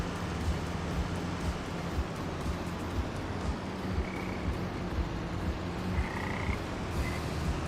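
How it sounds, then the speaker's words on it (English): Frogs croak in a steady pulsing chorus in Farming Simulator 25, a dense low rhythmic rattle over a constant ambient rumble, loud and continuous with no talk. "That's my favorite part about coming through here, is you get to listen to the frogs."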